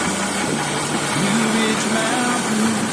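Idling car engine on an older Toyota Crown with a carburetor, speed sagging as a hose is pulled off, a steady close rumble with a low hum that shifts in pitch, and faint talk at the edges.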